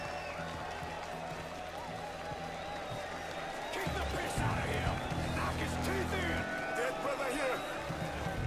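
Crowd cheering and applause at a wrestling match in the Mafia III video game, a steady dense roar of many voices with a louder swell partway through, continuous throughout.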